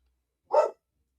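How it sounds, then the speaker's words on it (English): A single bark from a female dog, close and loud, standing alone against near silence. "Yes, you can hear the beast barking."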